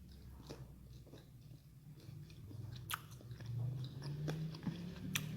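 Someone bites into a pumpkin fritter and chews it, soft crunchy bites and moist chewing close up at low level, with a few sharper crisp snaps.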